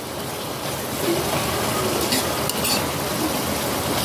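Chicken intestine adobo sizzles and crackles steadily in hot oil, a dense frying hiss that swells slightly after the first second.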